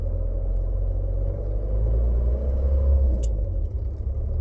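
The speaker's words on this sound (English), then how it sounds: "Starting to kind of sound a bit smoother, so I'm going to take it for a spin." Motorhome engine running steadily as the vehicle pulls away, a continuous low rumble close by with a brief high click near the end and no talk.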